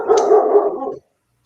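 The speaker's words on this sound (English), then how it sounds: "Who are you barking at?" A dog barks loudly and close in one sustained, rough bark-howl lasting about a second, then silence with a faint brief yip at the end.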